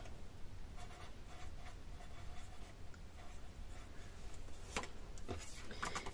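A pen writes a label on the divider of a Stampin' Up card storage box, leaving faint, quiet scratching strokes in a still room, with a few sharper strokes near the end.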